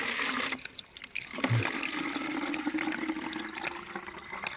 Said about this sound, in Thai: น้ำนี่สิใสเย็นตลอดเนาะแล้วก็สิไหลแบบนี้ตลอดเนาะ